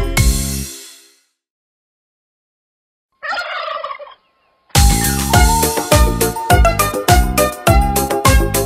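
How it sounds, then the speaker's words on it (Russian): A turkey gobbles in a short rattling burst after silence, followed by loud rhythmic music with a strong beat. "индюк пугает громким криком по двору"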